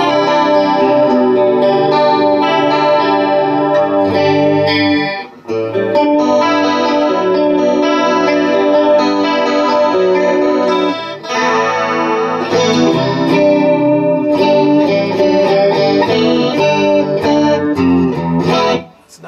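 Electric guitar played through a Small Clone chorus pedal, lush shimmering chords strummed loudly and continuously with brief pauses between phrases.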